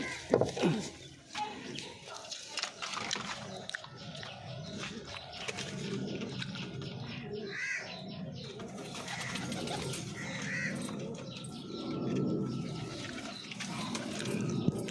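Pigeons in a loft, one pair sitting on eggs, give soft low cooing calls repeated through the clip amid handling noises, with a person talking quietly at times.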